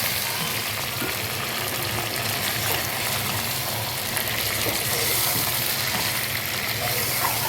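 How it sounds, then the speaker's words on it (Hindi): Chicken pieces fry and get stirred in a hot pan while cooking biryani, giving a steady, loud sizzle with scraping stir noises throughout and no talking. "ये देखिए जी हमारा चिकन अच्छे से मिक्स हो गया। इसको हम फ्राई कर लेंगे"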